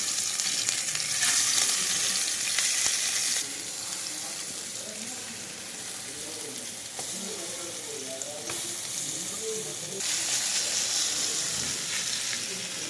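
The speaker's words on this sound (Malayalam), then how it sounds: "അതിനകത്ത് നല്ല വെളിച്ചെണ്ണ ഒഴിച്ചു കൊടുത്ത് നമ്മൾ പെരട്ടി വെച്ചിരിക്കുന്ന മീൻ മുട്ടയുണ്ടല്ലോ, അതൊന്ന് അത്യാവശ്യം ഒന്ന് ഫ്രൈ ചെയ്തെടുക്കണം" Marinated fish roe frying in coconut oil in a pan, Kerala style, a continuous loud sizzle with bursts of brighter spattering and faint clinks, no speech.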